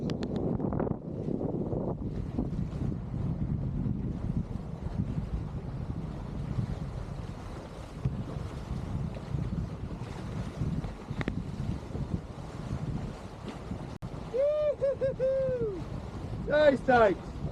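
A solo sailboat cruising under sail on open water in the Australian Top End, with continuous wind buffeting and rushing water throughout. A voice speaks over it in places, and brief whistling tones come near the end.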